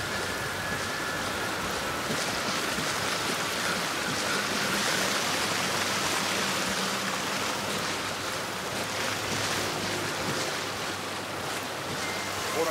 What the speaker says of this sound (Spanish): Hay algo detrás de la cascada.